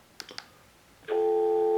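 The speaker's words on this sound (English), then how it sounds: "you can go ahead and get dial tone" Gigaset E560A telephone with a couple of short button clicks, then a steady, loud dial tone that starts about a second in and holds to the end.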